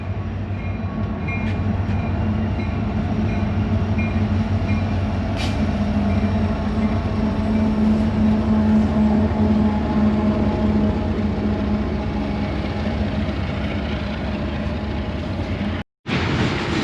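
A train rolls past continuously, a loud, steady rumble of wheels and cars on the rail with a sustained tonal squeal running through it; the roar holds the whole time and cuts off for an instant near the end.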